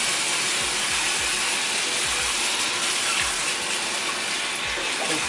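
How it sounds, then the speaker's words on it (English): Running tap water gushes steadily as a houseplant is rinsed, a continuous bright splashing stream with no speech. "Let's rinse her though because it's been a while."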